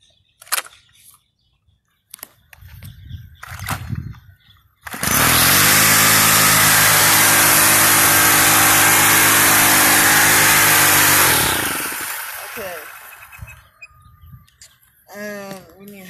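A gas-powered weed eater roars to life and runs at a loud, steady buzz for several seconds before winding down, with someone talking before and after it runs, outdoors with birds nearby.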